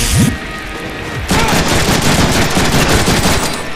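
Rapid automatic gunfire in the Deadpool video game, loud and close, a sustained burst of shots rattling on after a brief pause near the start.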